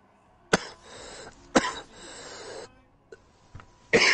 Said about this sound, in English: I'm not trying to cough into your ear.